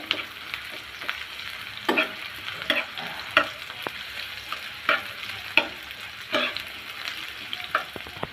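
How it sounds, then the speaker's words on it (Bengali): Onion frying in a pan gives a soft continuous sizzle, punctuated by repeated sharp scrapes and clicks of a spatula stirring at an irregular rhythm, close up with no talk. "পেঁয়াজটা আমি হালকা ভেজে নিয়েছি।"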